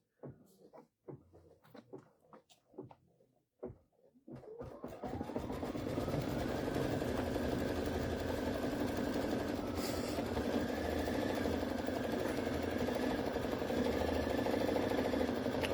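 A Baby Lock embroidery machine stitching in the hoop sets up a steady mechanical whir after a few seconds of quiet handling clicks, then runs continuously and evenly close by.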